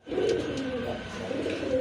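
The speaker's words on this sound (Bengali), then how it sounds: "এক জোড়া রেড ইন্ডিগো কালারের ভিতরে রাজগোল্লা কবুতর আছে" Rajgolla pigeons in red indigo colouring coo nearby in soft, low, rolling phrases, a brief continuous burble with no talk over it.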